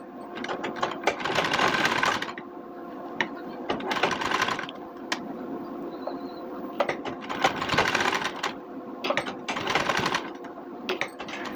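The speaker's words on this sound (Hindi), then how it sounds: "तो चलिए सिलाई कर लेते हैं।" A sewing machine stitches puffed net blouse sleeve fabric in several loud bursts of rapid mechanical whirring, separated by brief pauses and softer clicks, close by with no talking.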